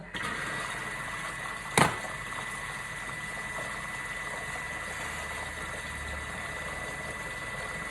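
Kitchen food processor running at speed 4 for a short mix, a steady faint motor whir and hum, with a brief sharp clatter near the start.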